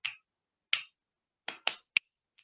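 Finger clicks and hand claps played as a simple rhythm for a primary-school music lesson: six crisp, close percussive hits at uneven spacing, with longer-ringing clicks and short sharp claps, alone in silence.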